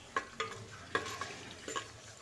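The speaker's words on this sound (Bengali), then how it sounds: "তেল দিয়ে কাজুটা ভাজা করছি।" Cashews fry in oil in a clay pot, giving a faint low sizzle broken by a few soft scraping stirs.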